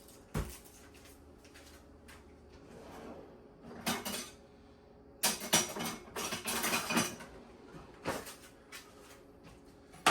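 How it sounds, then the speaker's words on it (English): A knife chops a red onion on a cutting board, with sharp irregular knocks and scrapes, a few louder bursts of quick chopping, and clattering utensil sounds close by. "I'm going to only chop a little bit of this onion to go in here."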